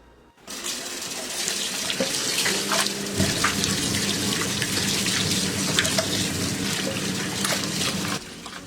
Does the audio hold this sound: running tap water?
yes